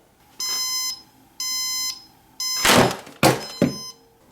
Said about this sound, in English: even your own alarm clock would be a better example